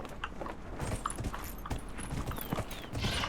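Horse hooves clip-clop in a video game, a steady run of soft, close-by beats over a busy background without speech.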